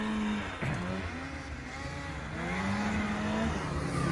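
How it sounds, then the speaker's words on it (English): Snowmobiles ride across a frozen lake, their engines droning loudly and continuously with pitch rising and falling as they rev and ease off. "First time on snowmobiles."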